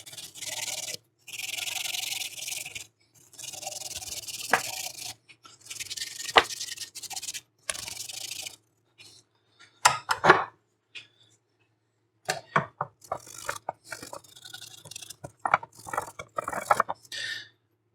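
Surface rust is scrubbed from a Volvo BM 500 brake master cylinder in repeated short bursts of close, gritty rubbing and scraping, with brief silent gaps between strokes.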